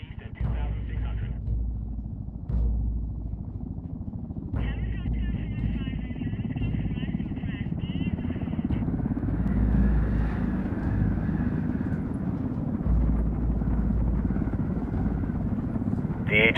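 A helicopter flies in the video game Ghost Recon Wildlands, its steady rotor and engine drone running throughout beneath radio chatter and voices.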